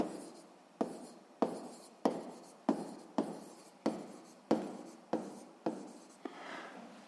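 A pen writes a physics formula by hand, in about ten quick, evenly spaced strokes, each a sharp close scratch that fades. No one speaks.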